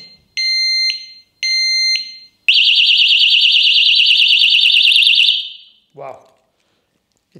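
A Kovics bike lock alarm sounds loud and close: two short electronic beeps, then a long, piercing, warbling siren that cuts off abruptly, followed by a brief chirp.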